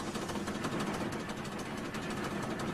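The quarry rock-collecting machine called Thumper works hard, a steady rumbling engine with a rapid knocking, thudding pulse, continuous and moderately loud.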